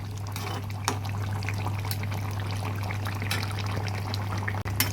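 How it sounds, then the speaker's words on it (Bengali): Rohu fish pieces slipping into a simmering potato and drumstick curry, a steady wet bubbling and trickling with a few soft splashes over a constant low hum, close by. "মাছগুলো দিয়ে দিলাম।"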